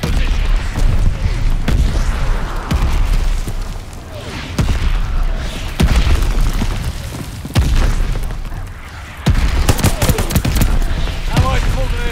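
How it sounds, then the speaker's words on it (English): Mortar barrage in a war video game: dense, continuous booming blasts and crackling gunfire, loud and close, with repeated heavy impacts and broken bursts filling the whole stretch. "Allies calling a mortar barrage"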